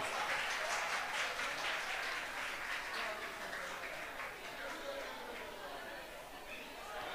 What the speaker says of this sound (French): Et nous demandons à l'assistance d'applaudir s'il vous plaît.